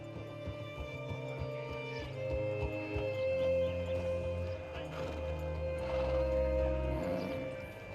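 Horse in the Red Dead Redemption 2 video game, with steady hoof clip-clops on hard ground followed by a loud snorting whinny, set against in-game background music.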